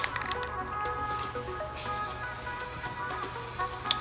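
An aerosol can lays a heavy coat of red paint onto car hub caps, a soft continuous hiss that brightens partway through and carries on steadily at moderate volume, with no one talking.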